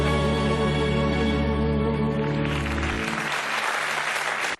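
Dense, steady applause from a recorded New Year concert, with the crowd clapping loudly and evenly as a sustained chord fades underneath, then cutting off abruptly at the end.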